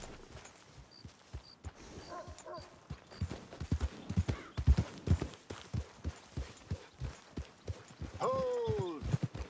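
In Red Dead Redemption 2, a horse's hooves clop in a steady trotting rhythm, loud and close, with the horse whinnying near the end.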